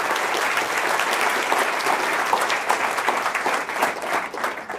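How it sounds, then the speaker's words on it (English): A warm round of applause from a Stanford lecture audience for a returning speaker, with dense, steady clapping that fills the room for several seconds and fades slightly toward the end. "let's give him a warm round of applause."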